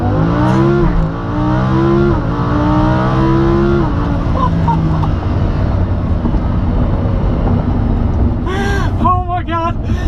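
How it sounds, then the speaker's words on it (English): A Lamborghini Huracan launches hard under launch control, its engine screaming loud and close as the pitch climbs quickly through rapid upshifts, then settling into a sustained roar with a few sharp crackles near the end. "activate launch control so you can hear the ridiculous sound of the Huracan"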